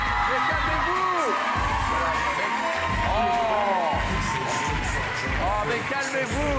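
A TV studio audience at a French NRJ 12 talk show cheers, whoops and shouts loudly and continuously, a dense crowd roar with rising vocal calls filling the whole stretch.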